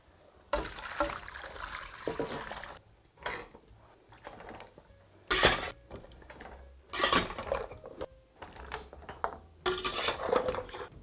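A wok is handled while cooking, with separate bursts of metallic clanks, scrapes and clatter between quiet gaps, close and fairly loud, with a little running water and no talking.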